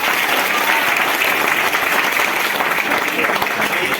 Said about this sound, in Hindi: तो सबसे पहले इसके लिए जोरदार ताली हो जाए।